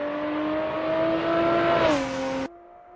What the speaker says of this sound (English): The Lotus demonstrates incredible stability through the corners and jaw-dropping acceleration on the straights